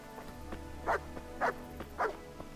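A dog in the medieval game Kingdom Come: Deliverance gives three sharp, evenly spaced barks, fairly close and loud, over a low steady background hum.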